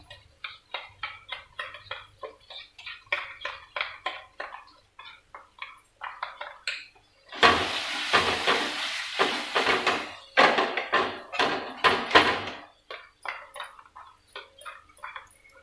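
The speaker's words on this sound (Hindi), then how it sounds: "अच्छे से इसको मिक्स कर लीजिए।" Raw banana sabzi stirred with spices and dried fenugreek in a pan: a spoon taps and scrapes in rapid rhythmic strokes, with a louder burst of sizzling frying in the middle, close by with no talk.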